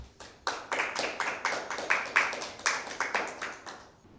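Applause for team A at a Bible quiz: a small group claps together in a quick, even rhythm, a dozen or so crisp claps at moderate distance, fairly soft, before fading out.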